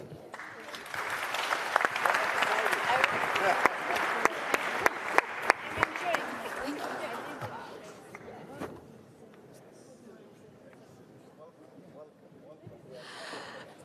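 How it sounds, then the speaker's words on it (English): Audience at a development forum's closing session applauds in a dense, sustained round of clapping that swells, then tapers off around eight seconds into quieter room noise. "could we have another applause for our panelists?"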